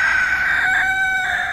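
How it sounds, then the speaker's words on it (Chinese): A rooster crows on a farm, one loud, close, drawn-out cock-a-doodle-doo call with a rising and falling bright tone, heard alone. "看到公鸡"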